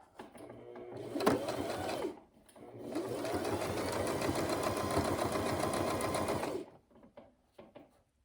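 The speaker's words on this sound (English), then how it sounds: "we're going to keep on sewing until we get to the end" A sewing machine sews a zippered pouch. A short burst comes first, then a longer steady run of about four seconds, followed by quiet handling noises.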